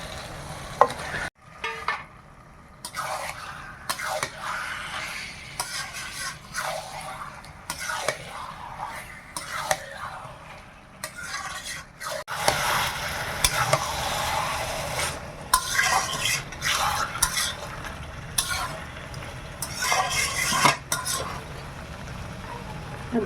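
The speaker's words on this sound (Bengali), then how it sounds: "মশলাটা ভাজা হয়ে গেছে, এবার মাংসটা দেব।" Chicken meat stirred into fried spice paste in a pot, with loud irregular scraping and clattering of a spoon against the pan over continuous sizzling, close by.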